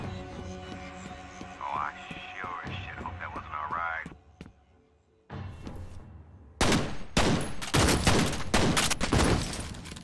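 Bursts of gunfire ring out in the shooter game F.E.A.R. Extraction Point. After a brief quiet gap, a dense rapid volley follows, loud and continuous. Game tones and speech come earlier in the scene.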